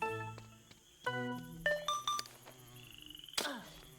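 Frog croaks in a cave in the video game The Sims, short resonant calls mixed with plinking tonal game sounds and a sharp swoosh near the end, no talking.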